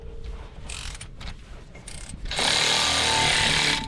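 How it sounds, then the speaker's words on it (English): The brake rotor on a 2019–2025 Toyota RAV4 is forced off with a screw, giving a series of sharp metallic creaks and clicks, then a loud continuous grinding rasp as the rotor's seal breaks free. "as you turn it, it's gonna break the seal on the rotor"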